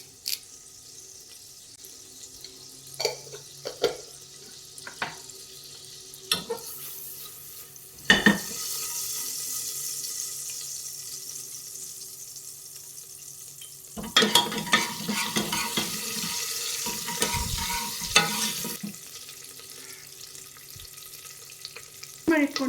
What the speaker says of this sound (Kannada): ಕರಿಬೇವು ಮತ್ತು ಸಾಸಿವೆನ ಹಾಕೊಂಡ್ರೆ ಒಗ್ಗರಣೆಗೆ ರೆಡಿ ಆಗುತ್ತೆ